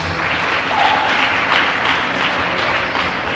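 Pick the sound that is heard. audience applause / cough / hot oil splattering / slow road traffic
audience applause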